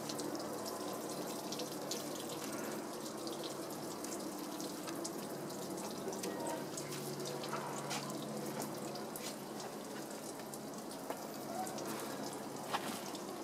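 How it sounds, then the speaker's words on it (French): Steady running water from a tap or hose wetting a car's bodywork ahead of a professional shampoo wash, a continuous even hiss and splash without pause. "Vous pouvez mouiller la carrosserie comme ça et là, tout simplement,"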